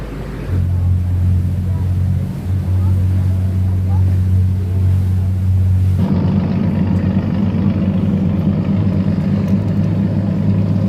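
A ferry's engine drones steadily and loudly on the crossing from Kolona port to Symi Island, Greece, a constant low rumble that deepens and thickens partway through with no pauses.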